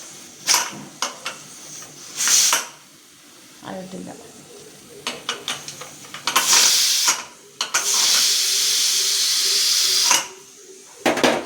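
A pressure cooker boiling chickpeas releases a steady broadband hiss of escaping steam in long bursts, broken by short clatters and kitchen noises, with some talking in between.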